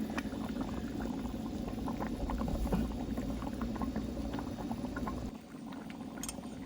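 Thick ajika sauce boils in a pot, a close, continuous bubbling with frequent small pops and glugs that dips slightly near the end.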